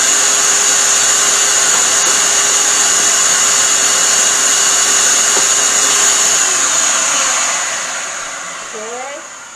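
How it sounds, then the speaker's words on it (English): A vacuum cleaner with a HEPA filter runs with a steady, loud whine and airy roar while picking up dust, then its pitch winds down near the end. "I'm going to use a vacuum with a HEPA filter to vacuum that dust up"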